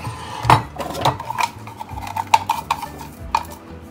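A spoon scrapes and clinks against a bowl while broccoli chicken salad is tossed with pepper and salt, sounding as a close series of irregular metallic taps and rubbing strokes.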